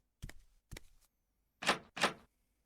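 A locked door tried in the point-and-click game Dead Synchronicity: two short handle rattles followed by two heavier thumps against the bolted door, close and clear with no talk.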